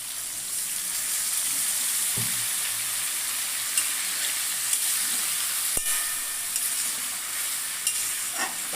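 Paneer chicken sizzling in a pan after a little water is added, a steady close hiss with occasional sharp clicks and knocks of stirring.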